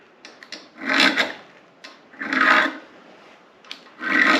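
A tool scrapes grime out of the screwdriver slot of a garden bench bolt during a restoration, three rasping bursts of scraping separated by short pauses, close and fairly loud.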